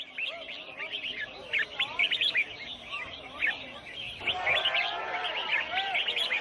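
Illegally captured exotic rainforest birds trill and chirp in rapid overlapping bursts at a Thai marketplace bird singing competition, several calls layered together, growing denser and more continuous toward the end, with faint murmuring in the background.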